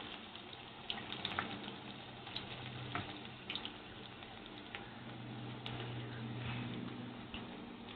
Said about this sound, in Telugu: ఇప్పుడైతే మనం పకోడీని అయితే ఇలా వేసేస్తాం ఆయిల్లో